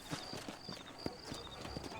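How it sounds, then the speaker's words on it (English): Horse hooves clip-clop at a steady trotting rhythm in the Red Dead Redemption video game, fairly close and moderately loud against soft background ambience. "You ain't gonna find sturdier horses than these in all of New Ulster."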